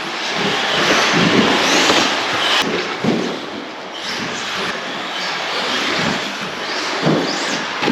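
A vintage Tamiya Super Astute RC car with a stock Monster Junior motor races on indoor carpet, giving a loud, continuous buzzing whine with surging bursts and rough rattling as it speeds about nearby.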